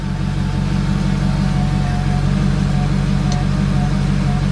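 The supercharged M113K engine of a Mercedes CLK55 AMG idles loud and close with a steady low rumble, its pitch wavering slightly as it hunts for a stable idle.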